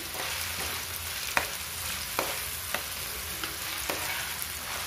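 Chopped onions frying in a pan for egg curry, a steady loud sizzle with occasional sharp clicks of stirring, no voices.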